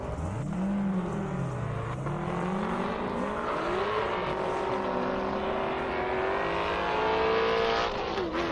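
A Camaro launches down an airport-strip drag course in a half-mile race, its loud engine rising and shifting through gears with a steady, strong roar and pitch sweeps as it accelerates away.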